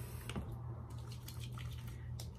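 Tap water running steadily into a sink while a face is washed, a close, continuous splashing flow with a few brief drips and clicks on top.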